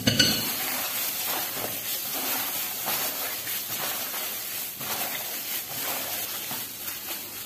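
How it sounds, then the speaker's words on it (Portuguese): Seasoned chicken being stirred together with spices in a bowl, a soft, continuous hiss of wet scraping and squelching that stays faint and close throughout, with no talking. "agora a gente vai misturar tudo isso aqui"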